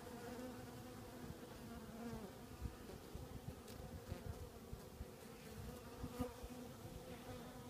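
Honeybees swarm around a hive during a late-season inspection, giving a continuous low hum of many wings close by with no talking over it.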